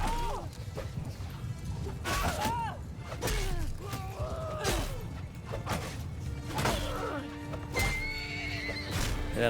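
Horses in a Mount & Blade II Bannerlord battle neigh and whinny repeatedly over a busy clatter of hooves, crashes and impacts, with several loud, overlapping calls throughout.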